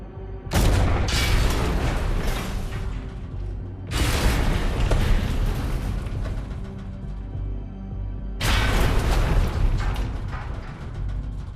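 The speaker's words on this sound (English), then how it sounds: "the Japanese also possess depth charges, underwater bombs that explode at preset depths" Three deep, rumbling underwater depth-charge explosions from Japanese warships, each a loud broadband boom with a long decaying roar, spaced several seconds apart with no talk.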